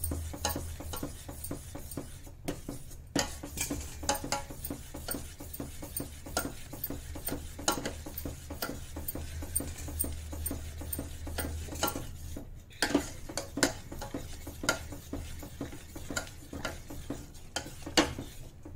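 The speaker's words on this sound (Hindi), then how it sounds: "तो इसको बराबर चलाते हुए ही इसको थोड़ा ठंडा कर लेते हैं।" A spoon stirring thick sugar syrup in a pan for shakkar paare, with the gas turned off: steady repeated scraping and clinking against the pan, close and moderately loud, with no talk.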